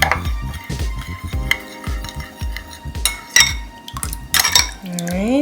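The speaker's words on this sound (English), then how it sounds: "I'm just gonna give this a nice stir just to get everything combined in here" A spoon stirs a Shaoxing wine marinade in a bowl for chicken fried rice, making repeated clinks and scrapes against the dish, fairly close and loud, with a brief tonal sweep near the end.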